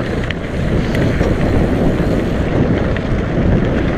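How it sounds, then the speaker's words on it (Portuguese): Wind buffets the microphone on a Sunday mountain bike ride, a loud continuous low rumble with no talking. "Olha o vento de novo."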